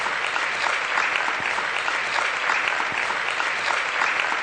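Audience applause at a Hindi spiritual discourse, a sustained dense wash of clapping from a large crowd, steady and fairly loud throughout with no speech over it.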